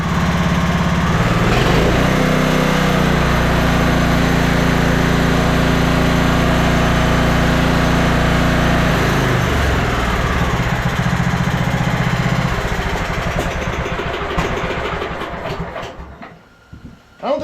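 Engine of a 1999 Husqvarna LTH 130 lawn tractor running loud and steady for most of the time, a rough droning rumble that drops slightly midway, then sputters and fades as the engine is shut off near the end.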